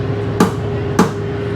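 Two sharp metallic knocks ring out about half a second apart as a mechanic tightens the central wheel nut of a race car in the Le Mans Classic 2023 paddock, over a steady background hum.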